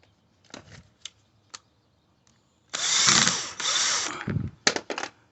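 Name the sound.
power tool driving bolt into Porsche Cayenne door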